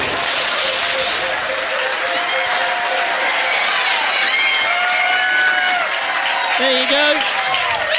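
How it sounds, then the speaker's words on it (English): Loud, sustained applause and cheering from a crowd at a trivia quiz night in a bar for the winning team, running the whole stretch with shouts and voices mixed in and someone briefly speaking over it. "Give me a huge round of applause."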